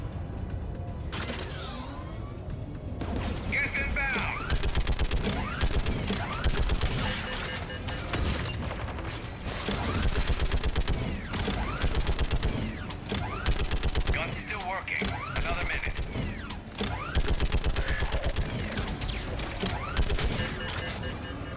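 Anti-aircraft gun turret in Mass Effect 3 firing in repeated bursts of rapid fire separated by brief mechanical creaks and clanks, fairly loud and steady throughout.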